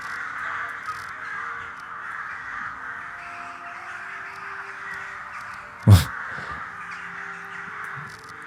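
Crows caw amid the ambient soundscape of the game Skyrim, repeated calls over a steady background hum, with one sharp loud knock-like burst near the end.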